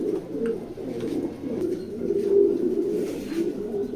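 Racing pigeons at a loft coo continuously, low rolling calls overlapping in a steady murmur that swells and fades, fairly close with no talking.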